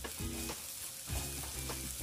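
Garlic frying until golden in a pan gives a steady sizzle, broken by recurring scraping stir strokes about every half second, close and clear with no talk.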